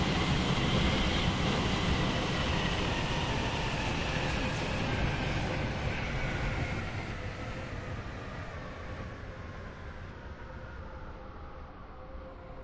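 Train running steadily then slowing as it arrives at a station, a broad continuous rumble of wheels and carriage noise that gradually softens toward the end, close and loud with no voices.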